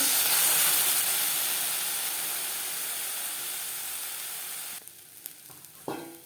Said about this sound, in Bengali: গ্যাসের ফ্লেমটাকে লোতে রেখেছি এভাবে একটু জল ছিটিয়ে দেবো